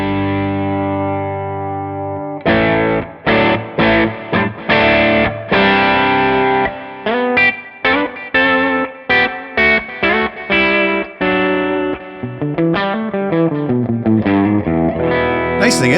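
Electric guitar amp tone from a ToneX pedal with the cabinet setting at live: a held chord, then choppy staccato riffing with muted gaps, gain-driven and loud, ending in sliding lines.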